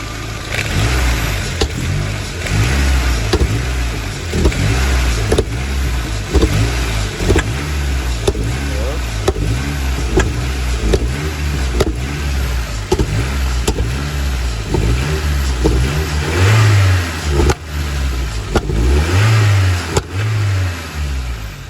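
A car engine revs over and over in rapid bursts, rising and falling in a steady pulsing rhythm, loud and close.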